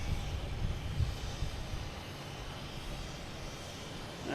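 JetBlue airliner arriving from Orlando at Boston Logan Airport: a steady, distant broadband jet engine roar with a low rumble, constant and unbroken through the whole stretch, no talk.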